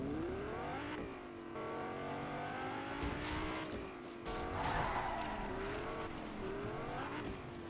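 A car drives in a video game, its engine droning and revving with shifting pitch, steady and fairly faint, with a brief skid-like swell partway through and no talk.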